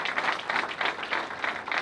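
Audience applause at a political youth gathering of the Union Sacrée de la Nation, a steady dense wash of clapping in rolling surges with no voices over it.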